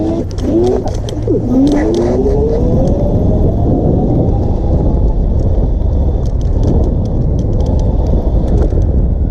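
An electric scooter set to dual motors accelerates hard, with a loud, close, rising whine that sweeps upward across the first few seconds, then a steady rush of wind and road rumble throughout.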